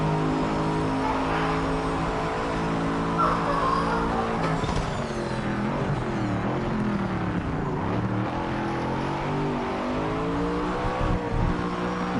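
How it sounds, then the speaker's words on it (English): Simulated race car engine from the Project Cars 3 video game screaming at full throttle, pitch climbing and dropping through gear changes with a hint of tire squeal, loud and continuous with no talking. "I can full throttle my car, and the tires even spin"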